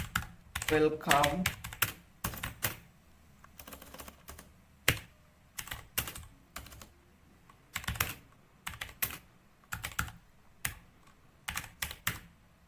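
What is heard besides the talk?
typing on a computer keyboard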